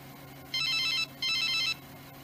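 A telephone bell rings in two bursts with a short gap between them, loud over a low background hum in an animated Christian cartoon scene.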